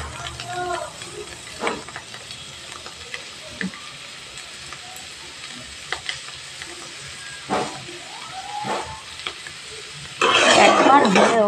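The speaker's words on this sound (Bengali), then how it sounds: "গ্যাসের ফ্লেমটা মিডিয়ামে রেখে শাকটা আর আলুটা এইভাবে ভেজে নিতে হবে।" Radish greens and potatoes frying in a pan over a medium gas flame, with a low sizzle and scattered spatula scrapes and taps, ending in a louder burst of hiss; a voice speaks intermittently over it.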